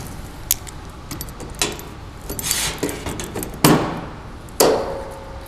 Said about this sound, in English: Let's go ahead and let's start clamping this thing down.